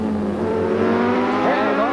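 Racing 860cc V4 Honda motorcycles at speed on a tight race circuit, a loud engine note rising and swooping through the gears, heard under a commentator's voice.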